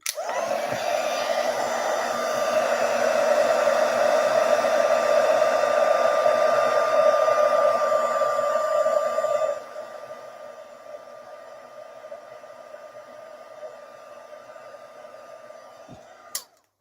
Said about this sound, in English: And then get my heat gun again. We'll just melt this one.